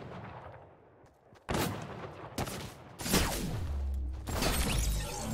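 Sniper rifle fire in the video game Fortnite, several loud, booming shots with rolling echoes, each cutting in abruptly after a quieter stretch, with no talking.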